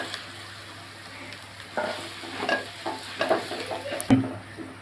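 Potatoes being stirred in a frying pan for crispy potato balls, with steady sizzling oil and intermittent scraping and clinking of a spoon against the pan, close and clear with no talking.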